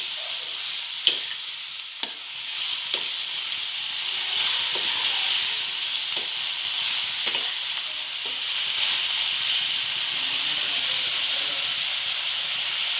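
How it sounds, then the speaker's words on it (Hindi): Chopped onion softens in hot oil for methi bhaji, a steady close sizzle with periodic sharp stirring scrapes of a spatula against the pan, no voices over it. "इस प्याज को हम तेल में ज़्यादा नहीं डालेंगे, सिर्फ नरम करके लेंगे"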